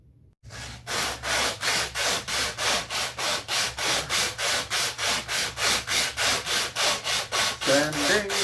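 Steady back-and-forth rasping strokes of sanding and smoothing a wooden sword handle, about three strokes per second, close and even, with no talk.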